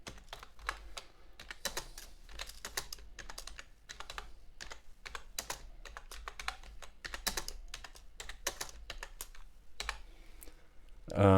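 Song title typed on a computer keyboard, a steady run of quick, close key clicks with brief pauses between bursts and no talking.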